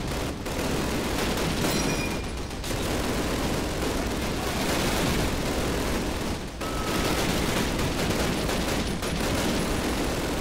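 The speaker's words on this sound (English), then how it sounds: "Put some rounds down, make sure they're not gonna stand up." Sustained heavy gunfire from a Call of Duty firefight, with dense overlapping rifle and machine-gun bursts filling the whole stretch, loud and continuous apart from a couple of brief lulls.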